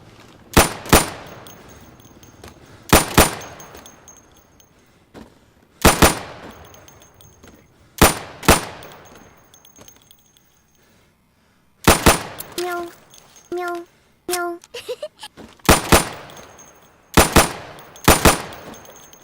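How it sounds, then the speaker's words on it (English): Gunfire from a sidearm at pop-up targets during weapons training in the video game Insurgency: loud, sharp single shots and quick doubles in an irregular pattern, with echoing tails and a brief burst of rapid shots midway. "So you can shoot accurately over 20 feet with your sidearm."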